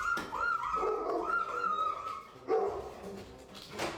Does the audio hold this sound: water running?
no